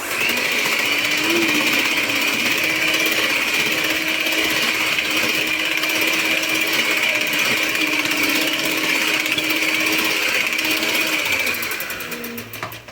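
An electric mixer whirs steadily as it blends vanilla cake batter with eggs, vegetable oil and vanilla essence in a bowl, a loud continuous motor drone that holds for about twelve seconds, then winds down at the end.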